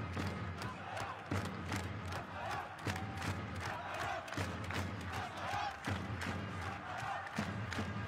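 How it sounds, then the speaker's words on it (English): Basketball crowd in an arena chanting Kataja in rhythm, accompanied by regular booming drum or thump beats, steady and loud across the whole stretch. "Kataja is the cry from the crowd."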